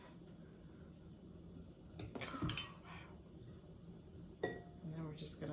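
A utensil stirring homemade horseradish in a container gives soft clinks and scraping taps against the sides, a few irregular knocks with a brighter clink near the end, amid quiet background and some talking.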